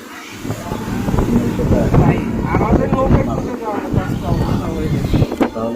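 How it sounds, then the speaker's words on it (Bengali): A rescue boat moves across floodwater, its broadband engine and water wash running steadily beneath loud, continuous overlapping talk. "আল্লাহ নৌকা তাদেরকে উদ্ধার করার জন্য যাচ্ছে"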